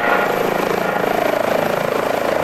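An H-135 helicopter flying in Microsoft Flight Simulator 2020 over Singapore and Dubai, a loud, steady, close rotor and turbine drone with a fast rhythmic blade pulse throughout.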